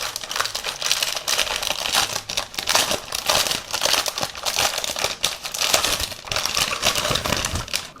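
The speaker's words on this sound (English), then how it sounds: "you'll notice it is wrapped in a plastic," Plastic wrapping peeled off an HK Gaming GK61 optical gaming keyboard: continuous close crinkling and crackling with frequent sharp rustles and snaps, loud and busy throughout with no talking.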